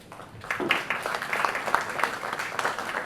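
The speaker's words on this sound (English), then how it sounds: "please join me in welcoming our distinguished panel with a big round of applause" An audience at a film festival panel discussion applauds the panel as it is welcomed, a moderate, fairly close patter of clapping with a few distinct sharp claps rising after a brief quiet start.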